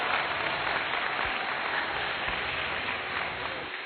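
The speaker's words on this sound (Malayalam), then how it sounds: "നല്ലൊരു കൈയടി കൊടുത്തേ." Audience applause at a parish gathering in Our Lady of Mount Carmel Church, Kundannur: a dense, even wash of clapping that holds steady throughout and tapers slightly at the end.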